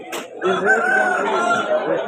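A fighting rooster crows once, close by at a rooster market in Vijayawada, in a long strained call after a brief sharp sound.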